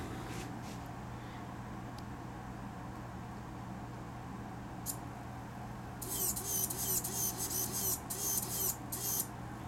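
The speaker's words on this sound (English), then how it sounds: "Servos are noisy." Small 85MG metal-gear servo driven by an Arduino to move a clown mask, a faint room hum and a soft click, then a few seconds of whirring, buzzing motor bursts in quick succession near the end.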